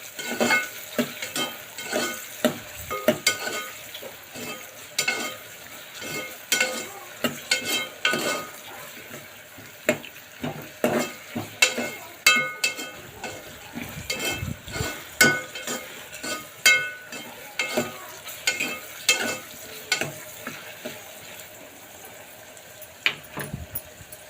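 Mutton pieces and onions frying for gongura mutton curry, with a constant sizzle broken by repeated scraping and stirring strokes of a spoon against the pan, close and irregular.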